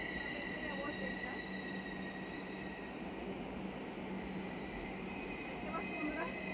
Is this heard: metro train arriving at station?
yes